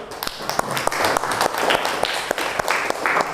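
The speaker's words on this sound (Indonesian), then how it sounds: "Boleh, kita beri aplaus dulu." A high school history class in Indonesia breaks into applause, a dense, lively patter of many hands clapping close by, with a few sharp louder claps standing out and faint voices mixed in.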